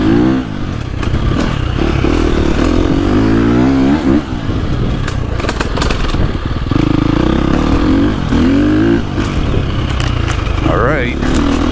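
KTM 350 XCF four-stroke dirt bike engine revving hard on a wooded trail loop, a loud, steady, rising and falling engine drone running the whole time with clattering and scraping beneath it.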